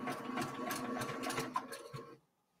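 A sewing machine stitches poly thread along a seam allowance, a close, steady mechanical whir with rapid needle ticks that stops abruptly near the end, with no talking.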